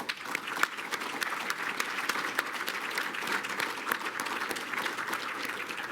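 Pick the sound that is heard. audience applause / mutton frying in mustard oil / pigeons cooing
audience applause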